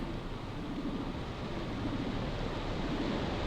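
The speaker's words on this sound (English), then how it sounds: "And that's the waterfall." Waterfall in the game Medievil, a steady, even rushing roar of falling water, continuous and unvarying with no voices present.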